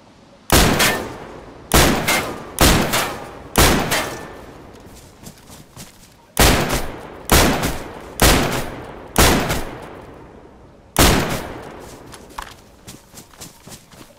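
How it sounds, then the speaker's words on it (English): Gunshots in DayZ fired at a stash, loud single reports in an uneven series of about ten, each cracking sharply then ringing out, spaced roughly a second apart with a pause midway. "let me finish shooting up this stash"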